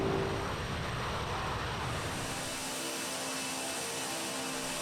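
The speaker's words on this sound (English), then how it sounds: "The captain pushed the throttles to take off thrust, and the heavy plane began accelerating." Heavy Korean Air cargo jet accelerating at takeoff thrust: a steady, broad roar of engine noise that fills the whole clip at an even level, with no voices.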